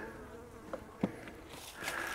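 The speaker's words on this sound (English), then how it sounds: "hot bees, when I call bees that are angry, I call them hot" Agitated honeybees buzz from an opened hive in freezing winter weather, a soft, irregular hum with a few brief closer passes, faint and alone.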